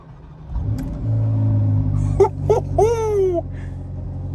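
A 2020 Ferrari Portofino starts up nearby: a starter whine, then a loud engine catch with a sharp rising flare that settles into a steady idle rumble, with no talk.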